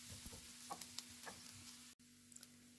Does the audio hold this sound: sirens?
no